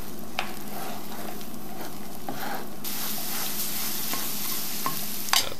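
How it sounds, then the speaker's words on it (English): Beaten eggs scrambling and sizzling in hot oil with no salt or pepper, a steady close frying crackle with occasional stirring scrapes, growing brighter and louder halfway through. "There go the eggs in, and I'm just going to start making my scrambled eggs"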